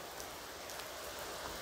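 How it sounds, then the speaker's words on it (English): Steady rain falls as a sound effect in a narrated story, an even, dense hiss of drops that continues without a break, with no voices. "it's raining a little heavily."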